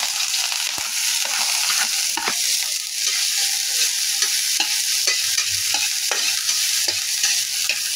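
Garlic and onion sautéing in oil, a dense steady sizzle with repeated scraping and tapping of a spatula against the pan, close and loud throughout, with no speech.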